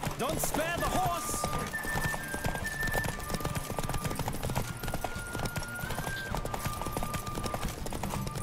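Galloping hooves pound steadily in The Witcher 3: Wild Hunt, a close, rhythmic clip-clop running throughout with a short neigh near the start and music behind.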